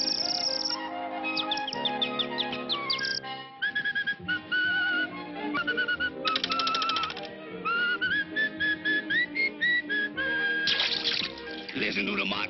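Bright, warbling whistled notes trilling in quick runs over a busy musical backing, loud and close, with chirpy bird-like phrases throughout.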